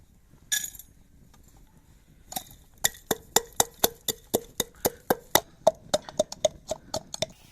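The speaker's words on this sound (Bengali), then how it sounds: "তো আমাদের ভাজা মশলাটা এখন বেটে নেব।" Roasted whole garam masala spices, cardamom among them, being pounded or ground by hand: a brief rustle, then a steady run of about eighteen sharp, evenly spaced knocks, close and fairly loud, with no talking.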